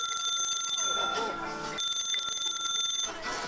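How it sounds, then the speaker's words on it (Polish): A wheel-driven bell on a vintage Łucznik bicycle rings in two long, rapid, rattling bursts, close and loud, with someone talking alongside. "jadąc rowerem można było dzwonić właśnie w taki sposób"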